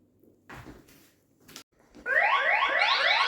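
The eufyCam 2 Pro wireless home security camera's alarm sounds a loud, continuous warbling siren that starts abruptly, after a few soft handling knocks and clicks.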